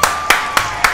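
Four sharp, evenly spaced hand claps ring out close and alone, about a quarter second apart, with a faint steady tone underneath.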